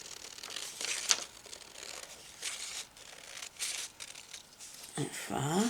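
Scissors cut through old sheet music paper, soft crisp snips and rustling crinkles at close range, with a louder burst of paper handling near the end.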